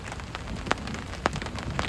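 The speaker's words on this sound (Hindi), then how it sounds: "बारिश जो है ना बहुत ज़्यादा तेज़ होने लगी है" Dense, heavy rain drums steadily at a night campsite beside a tractor caravan, with a few sharper drops or taps standing out over the constant wash.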